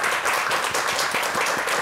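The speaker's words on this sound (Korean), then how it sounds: "일단 박수 한번 부탁드리겠습니다." Dense, steady studio audience applause on a Korean morning talk show, many hands clapping together at close range for the whole stretch, with no voices over it.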